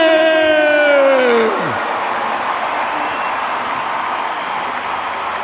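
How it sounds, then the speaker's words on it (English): A crowd roars for a baseball player at a Savannah Bananas versus Party Animals Banana Ball game in Miami. A falling whistle-like tone opens it, then a loud, steady wash of cheering fills the stadium. "Big roar from the crowd for D. Strange Gordon"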